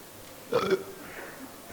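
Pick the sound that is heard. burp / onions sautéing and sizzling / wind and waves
burp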